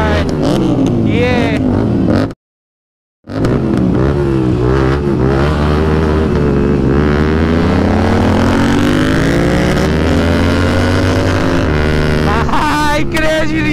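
Motorcycle engine roaring continuously while riding out on a rally, loud and close with revving surges and a brief dropout, with someone talking over it throughout.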